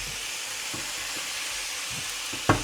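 Meat stir-fried in a pan for chilli con carne, steady sizzling hiss broken by several rhythmic stirring scrapes and a sharp clink of utensil on pan at the end.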